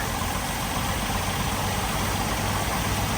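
A Jeep Wrangler YJ engine idles steadily, its fuel system fitted with an electric fuel pump. It gives a continuous, even low rumble close to the microphone with a faint vibration and no voices.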